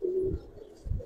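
A Giribaz pigeon gives a short, low cooing phrase, then a second soft throaty coo near the end, close and alone without speech.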